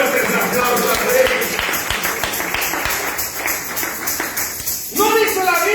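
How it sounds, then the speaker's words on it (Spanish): A church congregation applauds loudly in a steady, dense patter of many hands that continues for several seconds, with raised voices mixed in and a speaking voice returning at the end. "Dale fuertes aplausos a Él"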